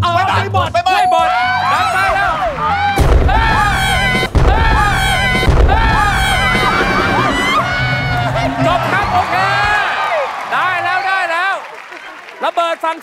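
A bomb explosion sound effect on a Thai TV game show (Hollywood Game Night Thailand) bursts out a couple of times over loud, busy studio music, crowd noise and excited voices.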